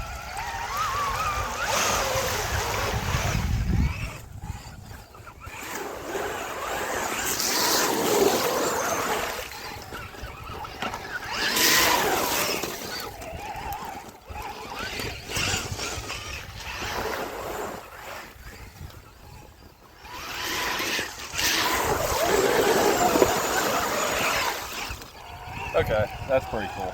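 Axial Bomber RC crawler truck with a 2300 kv Fusion Pro motor and aluminum body panels driving through a fast-flowing creek; surging water rush and splashing rise and fall in waves, with someone talking over it.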